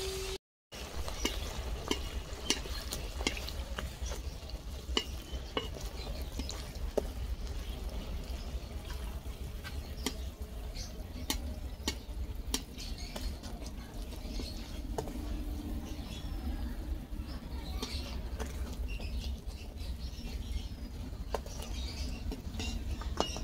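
Madhupuri deep-frying in hot oil gives a steady, close crackling sizzle that runs almost unbroken, with only a brief drop-out near the start. Fine pops and spits patter throughout with no voices.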